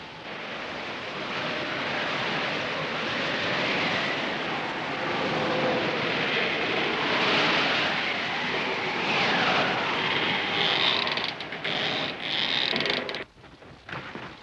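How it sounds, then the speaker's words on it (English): Strong storm wind roars on an island shore, a loud continuous rushing gale that swells and eases, with a few sharp knocks and rattles near the end. "The way the wind's blowing, everything will get wet."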